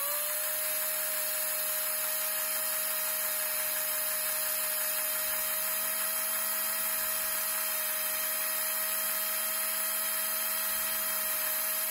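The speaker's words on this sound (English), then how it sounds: "And let's drill." A steady high-pitched whine of a power drill runs continuously without pause, sounding close and constant throughout.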